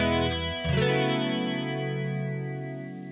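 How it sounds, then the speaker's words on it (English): Vintage BOSS CE-1 chorus on a guitar tone played through a Kemper Profiler: a sustained chord with a lush, wavering shimmer, restruck once early on and then ringing out cleanly as it slowly fades. "great job on making this vintage chorus"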